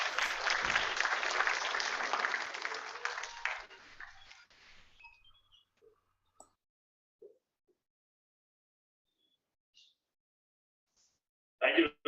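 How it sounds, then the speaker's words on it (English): Loud applause from the audience at the closing ceremony of the 2022 Asian Physics Olympiad, holding steady for about four seconds before thinning into scattered claps and silence, then a short burst of voice at the end. "let's have a huge round of applause"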